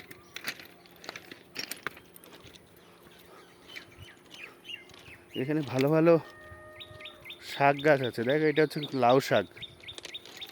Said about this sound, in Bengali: পাখি ডাকছে খুব সুন্দর।